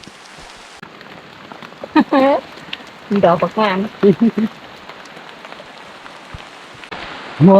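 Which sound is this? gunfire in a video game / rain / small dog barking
rain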